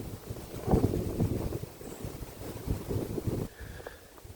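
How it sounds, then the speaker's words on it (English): Wind buffets the microphone in rough, uneven gusts, a low rumbling roar that eases off near the end. "Windy."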